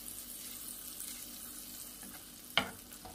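Butter melting in a pan for a creamy seafood burger gives a soft, steady sizzle and hiss throughout, with one brief sharp clink near the end.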